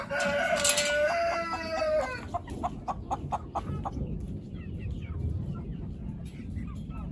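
Chickens and a rooster in a farmyard, a loud crow rising near the start followed by a run of short clucks, then quieter scattered bird calls over steady outdoor background noise.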